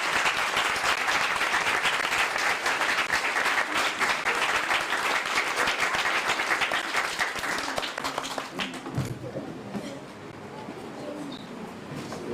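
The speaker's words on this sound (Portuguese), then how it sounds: "Todos de pé, irmãos, vamos aplaudir." A Baptist church congregation in Osasco, standing at a church organization ceremony, applauds in sustained, dense clapping for several seconds, then it fades into quieter room murmur.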